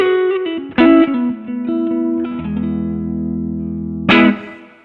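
Clean electric guitar, a Carl Longbottom Volvia fitted with Sun Bear Firebird pickups, playing single notes and then chords that ring out and sustain. A bright strum comes near the end, with light reverb and no voices.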